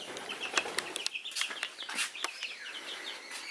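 Quail give quick, high chirping calls close by, in short repeated bursts over a quiet background with no talk.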